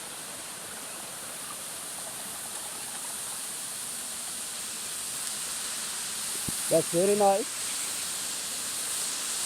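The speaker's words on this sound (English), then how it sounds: "There is a small waterfall here." A small waterfall and stream in Sri Lanka make a continuous broadband rush of falling water, steady and close, with a brief spoken remark near the end.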